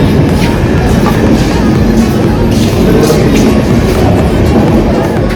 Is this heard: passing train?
yes